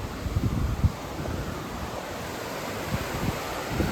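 Floodwater from Storm Debby roars down Ackerly Creek in Dalton, Pennsylvania, as a steady, broad rush close by, with some wind buffeting on the microphone and no voices.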